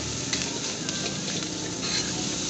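Nasi goreng seasoned with Mie Aceh spices, with soup leaves added, frying in a pan and being stirred continuously, a steady close sizzle with soft scraping strokes, alone and without talk.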